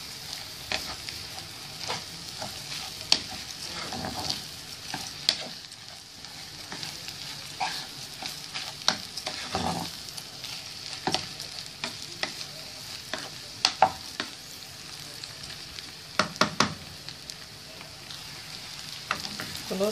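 Onion, liver and chicken gizzards sizzle steadily in a pot for a stuffed-chicken-with-rice dish, with repeated sharp scraping stirs across the whole stretch and no talk.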